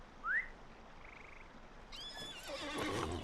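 A horse in the Lord of the Rings Online video game gives a short rising whinny, then a brief softer call, followed by a louder neighing burst with snorting at close range.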